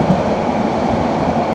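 The Parjatak Express passenger train runs between Dhaka and Cox's Bazar, heard from inside as a steady, loud rumble of wheels on rails, with murmured voices under it.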